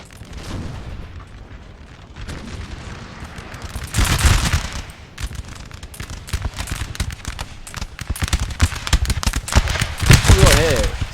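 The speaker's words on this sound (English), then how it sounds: "Firing canister, getting a few shots" Artillery firing canister shot in the Napoleon Total War multiplayer battle, a dense crackle of rapid bursts and booms with a heavier volley around the middle, running under a commentator's voice.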